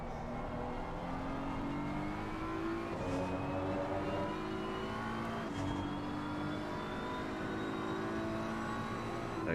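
A BMW front-engined race car at full throttle on the Paul Ricard circuit in Assetto Corsa, the engine note climbing steadily through the gears with brief dips at shifts, loud and continuous with no talk.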